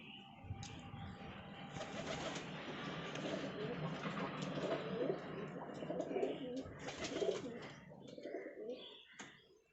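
A pigeon being handled and inspected coos and rustles close by in steady bursts, with brief sharp handling noises and a faint voice now and then.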